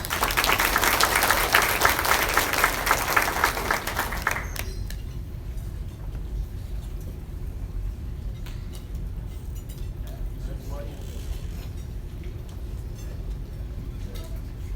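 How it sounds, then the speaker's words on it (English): Applause from a banquet audience for a team member being recognized at a sports hall of fame event, a dense burst of many hands clapping that cuts off after about four seconds, leaving quiet room noise. "Give her a round of applause."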